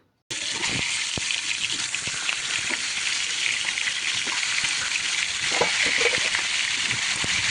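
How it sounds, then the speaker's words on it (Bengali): Fish frying in hot mustard oil on a flat griddle pan, a loud continuous hiss and crackle that bursts in after a brief silence and holds steady, with occasional utensil taps. "তেলটা গরম হয়ে যাওয়ার পর মাছগুলো একে একে সব দিয়ে দেবো।"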